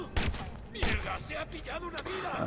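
Gunfire in the video game Watch Dogs, several sharp shots and short bursts spread across the moment, with someone talking over the noisy action.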